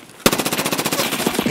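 A .300 Blackout MCX rifle fires in a video game, a sudden loud burst of rapid, evenly spaced shots that rattles on for over a second without pause.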